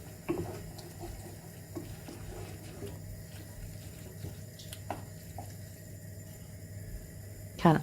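Water runs from a tap into a pot of simmering lemon chicken with leeks, a faint, steady trickle with a few clinks and a louder knock at the end.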